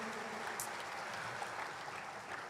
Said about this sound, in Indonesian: Boleh tepuk tangan dulu dong untuk kita semua yang hadir di sini.